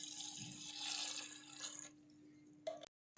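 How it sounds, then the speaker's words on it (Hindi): A glass of water poured into a pot of chana pulao with whole spices such as nutmeg, a steady splashing pour lasting a few seconds that cuts off abruptly, close and alone. "साथ इसमें ऐड कर देंगे 1 गिलास पानी"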